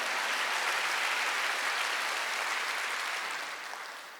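A church congregation applauding during a Wednesday worship service, a steady wash of many hands clapping together that holds evenly and then fades toward the end, with no talking over it.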